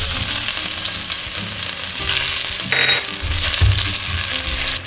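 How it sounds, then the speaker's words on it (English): Ginger sautéing in olive oil for Filipino chicken arroz caldo, a loud, steady close-up sizzle and crackle of frying with occasional stirring sounds and no talking. "let's start sauteing. I'm gonna put olive oil. So I like to put the ginger first."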